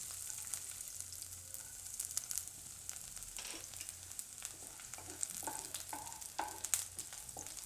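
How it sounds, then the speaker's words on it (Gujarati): Garlic frying in hot oil for momo chutney, a steady soft sizzle with faint stirring scrapes and crackles, close up and with no talking. "તો તેલ આપણું ગરમ થઈ ગયું છે, એમાં પહેલાં લસણ નાખશું."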